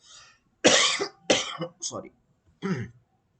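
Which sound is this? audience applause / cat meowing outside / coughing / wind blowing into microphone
coughing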